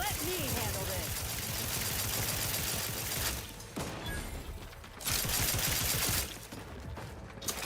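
Rapid bursts of gunfire from a first-person shooter in The Outer Worlds 2 sci-fi game, loud and sustained with brief pauses between volleys while the action continues.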